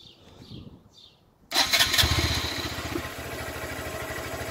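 A 2018 Honda Grom motorcycle with its stock exhaust fires up close by after a moment of near-quiet, then settles into a steady, busy idle.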